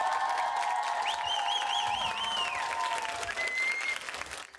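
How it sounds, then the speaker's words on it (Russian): Colleagues and students at a lyceum applaud a returning teacher, dense clapping from a crowd indoors with high cheering whistles and calls over it, fading slightly near the end. "В родном учебном заведении коллеги и учащиеся встречали его как героя аплодисментами и поздравлениями."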